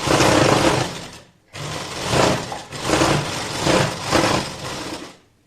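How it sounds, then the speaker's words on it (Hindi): A sewing machine runs stitches along the lining of a blouse, putting the margin on top, in several close, loud bursts of steady whirring with brief pauses between them. "इस पे हमें सिलाई चलानी है मार्जिन को ऊपर"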